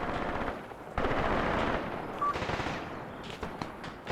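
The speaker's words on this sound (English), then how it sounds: "And I hear PPSHs." PPSh submachine guns firing during a close-range forest fight in the war game Graviteam Tactics, with dense, rattling bursts of automatic fire that rise and fall, loud and continuous with no voices.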